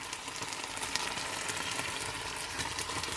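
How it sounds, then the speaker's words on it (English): Bacon sizzles steadily in a frying pan, cooked toward the crispy end, with a dense, close crackle and spatter that runs without pause and no voices over it. "The sizzle"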